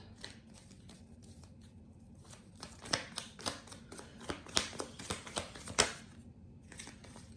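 Tarot cards are handled and drawn in a series of quick, crisp rustles and snapping flicks, quiet at first and then growing denser and louder in clustered bursts, with no talk.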